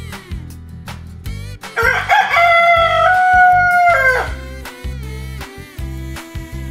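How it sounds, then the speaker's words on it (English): A rooster crows once in a loud, close, drawn-out cock-a-doodle-doo over a rhythmic background music bed. "The rooster crows in the morning."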